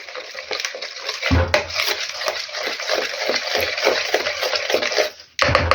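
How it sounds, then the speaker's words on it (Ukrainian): Baking soda is stirred into kefir in a bowl for a jam pie, a spoon scraping and clinking against the bowl in a quick steady rhythm, close and fairly loud, with no talk. "Вливаю в миску кефір і всипаю сюди соду. сипала соду перемішала в кефірі"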